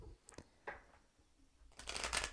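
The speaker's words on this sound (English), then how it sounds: "One more shuffle." A deck of oracle cards is shuffled by hand in a few quick, soft riffling bursts, close and quiet, with a brief pause between the passes.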